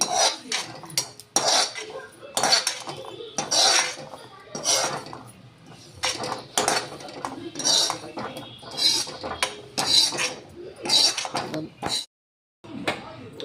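Repeated metallic scraping and clinking of a spoon against a steel mixer jar as roasted spices are scraped in, close and busy, coming in short bursts with brief pauses.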